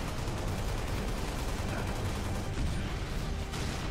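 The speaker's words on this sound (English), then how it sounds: "Are you shooting me?" Sustained, dense gunfire from a co-op shooter video game campaign fills the whole stretch, loud and continuous with overlapping bursts and no clear pauses.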